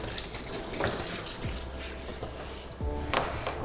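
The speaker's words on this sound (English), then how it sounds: "when we're rinsing her ears, rinsing downwards and making sure that no water gets in those little ear canals" Running water rinsing a dog's ears during a bath, a continuous soft splash and trickle with a few brief shifts in flow, close and fairly quiet, no voices.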